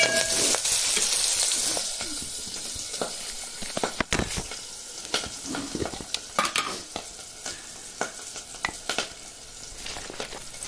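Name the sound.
curry leaves frying in oil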